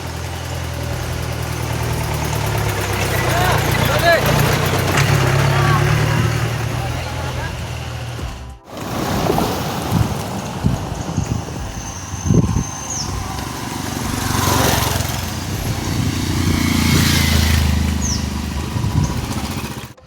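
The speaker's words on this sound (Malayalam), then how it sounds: "ട്രാവൽസ് ഇതാ കടന്നു വരുന്നു." A travel bus rumbles past on a one-way forest road near Vagamon Kurisumala, its engine a loud, close, steady drone that swells and fades, with a voice talking over it.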